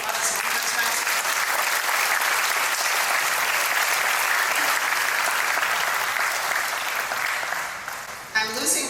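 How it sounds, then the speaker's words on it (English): An audience at a high school orchestra concert gives the seniors a long, steady round of applause, dense and loud for most of the stretch before tapering and stopping near the end, where a voice begins. "Give them a round of applause one more time."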